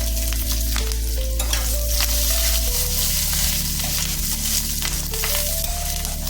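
Garlic and green chilies fry in hot oil in a pan for a ridge gourd dish, giving a loud, close, continuous sizzle with scraping stir sounds throughout.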